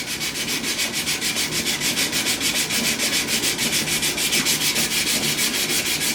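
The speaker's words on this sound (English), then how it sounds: "I'll rub this down" Steady back-and-forth sanding of filler on a model Dalek, a close, rhythmic scraping rub repeating about five times a second without pause.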